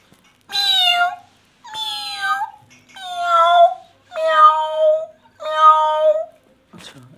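A person's voice imitates a cat, giving five long, drawn-out meows in a steady rhythm, each loud and close with brief pauses between, followed by a short trailing sound at the end.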